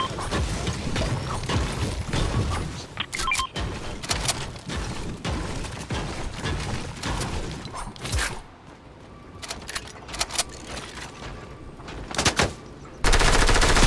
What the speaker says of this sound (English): There's shots from the uh, west, 285-ish.